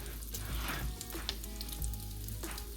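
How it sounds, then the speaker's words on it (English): Bacon sizzles and renders in a pan while a loaded potato chicken casserole is made, a steady close crackle of frying fat with a few brief clinks and stirring sounds over the top. "my bacon is rendering down really, really good"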